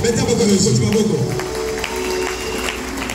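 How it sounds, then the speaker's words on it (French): Worship congregation applauding the king during a church service, clapping and cheering voices over music, strongest in the first second and a half and then easing off. "Acclamez le roi droit"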